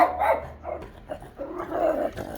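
A dog barking close by outdoors, several sharp barks and yips in an uneven burst, with a low growl between them.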